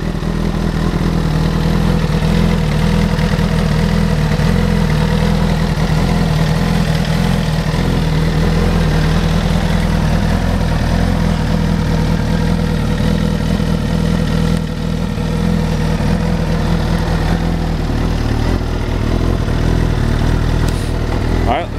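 A 2014 Suzuki GSX-R 1000 motorcycle idles steadily, its low, even engine rumble holding constant for about twenty seconds, close by and loud, with someone talking over it.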